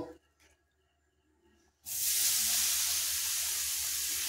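Grated coconut tipped into a pan of hot oil with fried ginger for coconut naru, bursting into a loud, steady close hiss and sizzle after a quieter stretch of faint clinks.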